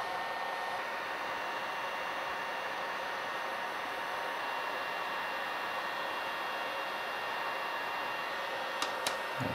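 A heat gun blows steadily at close range while shrinking heat shrink wire connectors around wires. The airy, constant roar carries no talking, and a couple of faint clicks come near the end.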